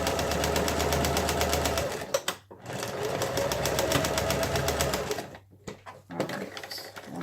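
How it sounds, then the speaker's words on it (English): A sewing machine stitches an art pouch in two loud, close bursts of rapid needle chatter, with brief pauses and small handling clicks between runs. "put your footing down again and continue sewing"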